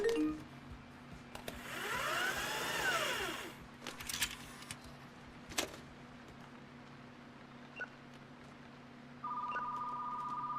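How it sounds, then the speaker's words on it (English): A telephone rings indoors in a retro video store during remodeling. The ring is faint and comes in a few short bursts, then turns into a steady electronic tone near the end, with no talking. "now the phone's ringing."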